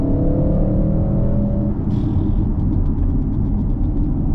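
A turbocharged V8 in an Audi RS6 accelerates with a loud, steady rumble and a fading whine, heard close up from inside the car.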